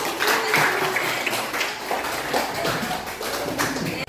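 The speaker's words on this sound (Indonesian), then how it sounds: "Iya, beri aplaus." A classroom applauds a student with a steady patter of mixed hand claps of moderate loudness that carries on for a few seconds before cutting off.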